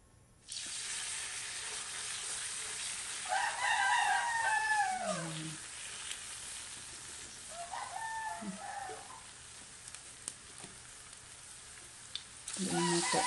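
Food frying in a pan, a continuous hiss with stirring, while a rooster crows nearby twice and again at the end, partly over the sizzle.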